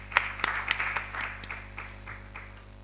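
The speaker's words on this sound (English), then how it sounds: "Please give a warm round of applause." Sparse applause from an audience at a presentation event, a scattering of distinct hand claps that start fairly sharp and thin out, fading over about three seconds, quiet and somewhat distant.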